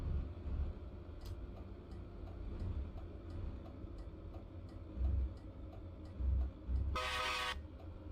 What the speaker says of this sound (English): That is a train horn.